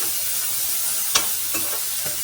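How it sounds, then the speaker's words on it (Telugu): Onions frying in a pan for a Telugu-style broad bean (chikkudu kaya) fry: a steady close sizzle with a few light stirring clicks and scrapes, no talk. "ఇప్పుడు ఇలాగ ఆనియన్స్ ఫ్రై అవుతున్నాయి కదండి"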